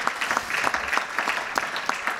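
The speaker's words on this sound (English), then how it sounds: "Please give them a round of applause too." Audience applause for sponsors at a candidates' business luncheon: a brief burst of clapping with distinct individual claps audible within the crowd, fairly close and steady.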